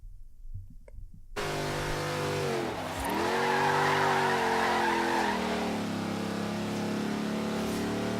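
Cars racing and drifting in the video game Forza Horizon 3: a loud engine roars in after a brief quiet moment, revving steadily with squealing tires throughout.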